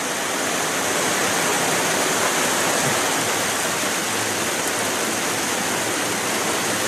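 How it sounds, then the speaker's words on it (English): Steady, dense rain falling outdoors during a walk, a constant loud hiss with no pauses or voices over it. "take a walk with me while it's raining"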